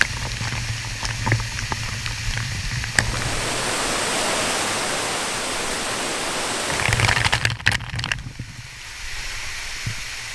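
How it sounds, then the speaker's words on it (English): Continuous rushing water roars close by at Little Dunn's River waterfall in Jamaica, steady and loud, with a few clicks and bumps as someone walks through it. "So I'm going to walk through the waterfall now."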